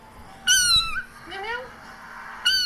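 A cat meows several times from a played recording, with clear rising and falling cries that are loud and close, separated by brief pauses over a faint steady hum.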